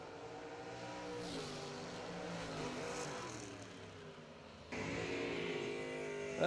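Corvette Roadster drag racing car staged at the start line, a steady loud engine drone with rumbling harmonics that steps up sharply near the end as the revs climb.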